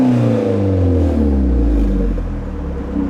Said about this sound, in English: it's Piper exhaust, so I will do a little sound test and we can hear what it all sounds like